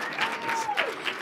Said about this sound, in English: one more round of applause for all these guys